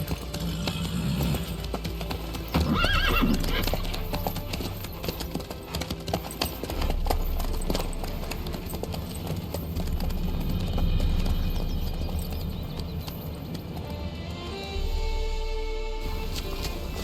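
Horse hooves clip-clopping steadily at a gallop in The Witcher 3: Wild Hunt, a continuous close rhythmic beat with game ambience, a brief louder thump near the start, and the pace easing toward the end.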